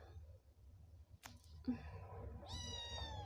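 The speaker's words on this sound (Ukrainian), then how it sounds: "якщо її береш на руки, то вона теж м'явкає" A house cat meows while being held in someone's arms at home: a clear, rising mew near the end, close to the microphone, over faint room noise.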